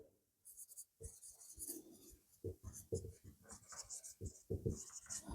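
Marker or chalk scratching across a classroom board in quick strokes and taps, close and fairly quiet, with a low voice murmuring underneath.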